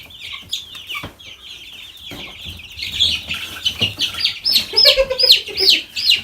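Meat chicken chicks in a homemade brooder with wood shavings, peeping and clucking in close, busy chatter that grows louder and denser toward the end.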